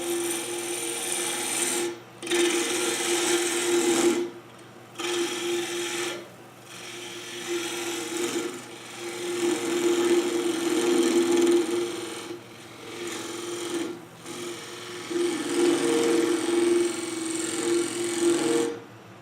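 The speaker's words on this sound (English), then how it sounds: "I'm going to remove a good chunk of this material here with my bowl gouge" A bowl gouge cuts into a wooden bowl blank spinning on a lathe, making a loud, continuous rasping whir that breaks off into short pauses between passes.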